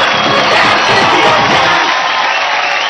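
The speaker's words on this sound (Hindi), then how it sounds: "जोरदार ताली हो जाए सुमेध के लिए।" A crowd cheers and whoops loudly on a Dance India Dance stage, with some clapping mixed into the steady, dense roar that holds throughout.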